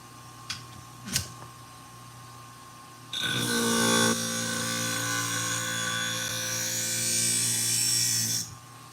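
A pair of scissors meant for an auto upholstery shop is ground on a powered sharpener. Two brief taps come first, then a loud sustained grinding hiss with a motor hum runs for about five seconds and stops.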